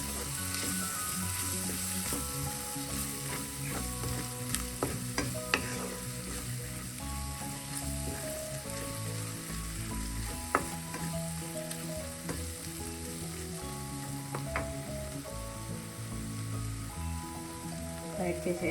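Ground spice powders sautéing in hot oil for a mushroom roast give a steady, close sizzle throughout. A spoon scrapes and stirs now and then, and faint background tones sit underneath.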